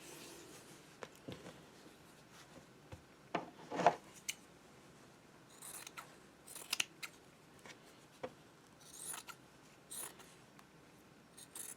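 Scissors snip through fabric quilt squares in a series of short, crisp cuts spaced irregularly, fairly quiet and close, with no voices.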